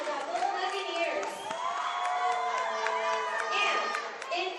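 A large crowd at a school cheer competition cheers and whoops for a cheer team, a sustained roar of many voices with shouts and some clapping, steady and loud throughout.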